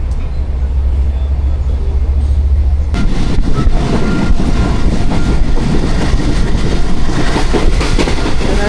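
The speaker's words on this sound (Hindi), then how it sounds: "कि अल्लाह अल्लाह करके ड्राइवर ने स्पीड गेन करना शुरू कर दी है।" Pak Business Express train picking up speed on a Karachi to Lahore run: a steady rumble jumps to a loud, dense rolling clatter with rhythmic wheel clicks, heard from inside the carriage.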